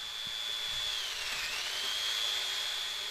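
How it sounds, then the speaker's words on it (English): A jigsaw trims excess fiberglass from a homemade hockey stick, giving a steady high-pitched whine that dips briefly mid-cut before settling again, continuous and moderately loud. "I use a jigsaw to cut away any extra fiberglass away from the stick"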